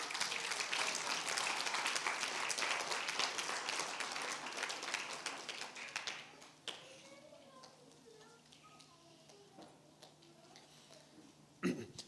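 A congregation at a Spanish-language Wednesday church service applauds in a dense, steady roar of clapping for about six seconds, then the sound thins out and fades to a quieter room with a voice speaking.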